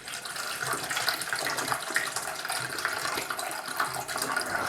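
About a quarter litre of water is poured into a vessel to make hibiscus juice, giving a continuous splashing, gurgling fill at moderate volume with no talk.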